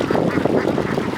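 A flock of ducks quacking in a dense, continuous overlapping chorus, loud and close.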